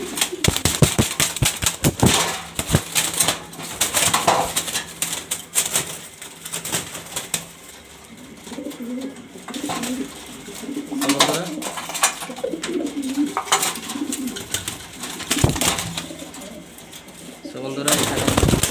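Grizzle pigeons at a sale coop coo with soft repeated low calls, mixed with wing flaps and sharp clattering knocks, while someone talks over them at close range.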